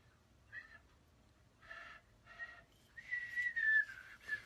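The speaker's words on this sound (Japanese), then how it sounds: "口笛がうまく吹けなくなった" A person whistles a few short tones and then a longer wavering phrase, faint and close in a quiet room.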